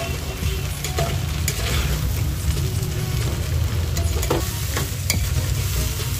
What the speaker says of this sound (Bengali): এটাকে পুরো ভাজবো।